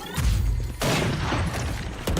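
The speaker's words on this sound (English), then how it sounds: "Grenade is live" A grenade detonates in a Valorant match, a loud low boom at about 0.8 seconds that rolls into a sustained rumble, with another sharp hit near the end.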